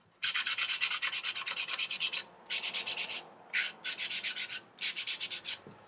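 Sandpaper is rubbed by hand over a painted MDF tea box in quick, regular back-and-forth strokes, close and crisp. The strokes run in several bursts of steady rasping with brief pauses between them.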